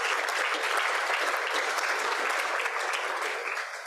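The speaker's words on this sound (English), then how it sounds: "Let's give her a round of applause." Audience applause for Kay Granger, retiring congresswoman, at a Rotary club meeting: steady, dense clapping from a room full of people, sustained throughout and tapering slightly at the end.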